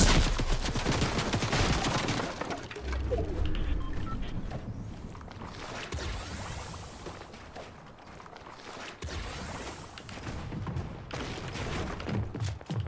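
Dense bursts of video game gunfire, rapid automatic volleys mixed with single shots, loud and nearly continuous throughout with brief lulls, and no clear talk over it.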